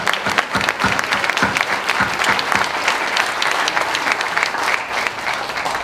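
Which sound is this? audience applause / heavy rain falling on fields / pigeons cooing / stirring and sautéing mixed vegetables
audience applause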